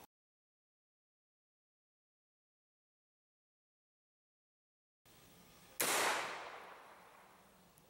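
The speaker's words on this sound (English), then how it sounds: "So let's shoot it with something bigger." A single sharp, loud gunshot cracks at a Ruwac range vacuum housing after a stretch of silence, followed by a decaying echo.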